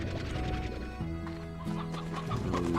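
Hens cluck in the Slime Rancher video game, a busy run of short, choppy clucks from several birds, close and moderately loud with no talking.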